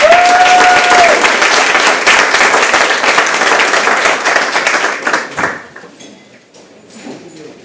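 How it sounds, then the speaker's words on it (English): An audience applauds a panelist at a talk on Brigadier General Montgomery C. Meigs, dense loud clapping that fades out near the end, with a brief tone at the start. "Give a round of applause, please."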